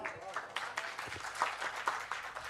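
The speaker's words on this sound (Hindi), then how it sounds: "जरा तालियां हो जाएं।" Audience applause at a book festival in Mumbai, scattered hand claps rising from a crowd during a Hindi poetry recitation, moderate and steady for a couple of seconds.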